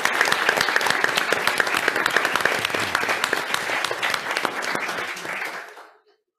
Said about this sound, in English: I will give you a very big round of applause for everyone.